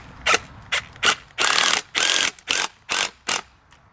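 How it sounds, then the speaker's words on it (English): A wooden squirrel feeder is screwed into a tree trunk by hand, giving eight sharp ratcheting, scraping bursts in an uneven rhythm, some short and some longer, close by and fairly loud with brief pauses between them. "I'm just going to go ahead and screw it into the tree right here"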